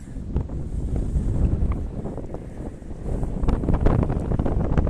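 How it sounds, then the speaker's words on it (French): Gusty wind buffets the microphone with low rumbling bursts, rising and falling continuously; no voices. "Il y a un peu de vent, j'espère que ça va."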